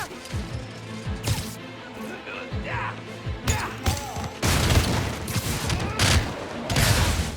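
Rapid gunfire bursts and impacts ring out in the PS5 video game Spider-Man: Miles Morales, with loud shots, crashes and thuds layered over dense game sound effects.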